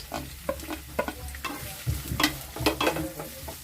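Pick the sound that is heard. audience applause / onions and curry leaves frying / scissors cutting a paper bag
onions and curry leaves frying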